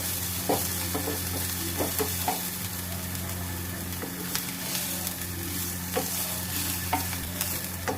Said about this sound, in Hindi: प्याज भी हमें ज़्यादा फ्राई नहीं करना है, प्याज थोड़े से ट्रांसपेरेंट हो जाए